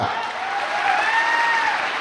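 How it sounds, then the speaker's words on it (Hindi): Audience at a seminar gives a short, loud burst of applause in honour of a speaker, dense clapping throughout with a faint tonal whine behind it. "मैं चाहूंगा उस सर के लिए जोरदार तालियां"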